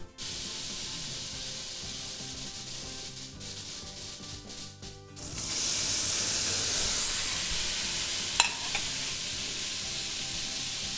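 Beef stock for a shaved steak sandwich splashes into a hot pan and erupts into a loud, steady sizzle partway through, after a quieter stretch, with a brief clatter near the end.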